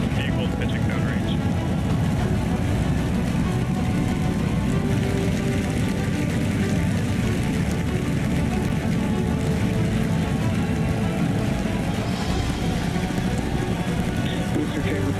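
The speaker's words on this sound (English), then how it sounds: "We have liftoff. Vehicle pitching downrange." SpaceX Starship on its Super Heavy booster lifting off, a dense, steady, broadband rocket roar that holds level throughout at a distance, under faint background commentary.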